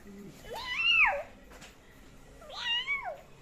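Two clear cat meows, close and fairly loud, the second following after a short pause, with a quiet room behind them.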